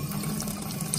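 Water spraying steadily from the lid of an S40 steam condenser, a continuous close hissing rush with no pauses, loud and alone.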